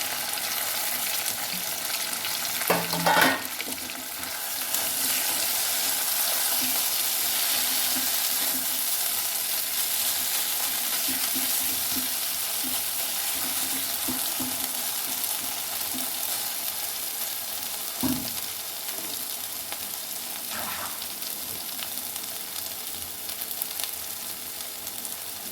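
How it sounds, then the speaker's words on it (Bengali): A paste of ground banana flower and potato fries in a pan, sizzling steadily throughout with a few louder stirring scrapes and clatters. "মোচা বাটা, আলু বাটা একসঙ্গে সব ঢেলে দিচ্ছি। ভেজে নেব।"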